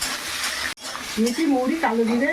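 Hot oil sizzling in a pan with panch phoron spices, bay leaf and onion being stirred in a home kitchen, a steady hiss with a brief break, partly under a person talking.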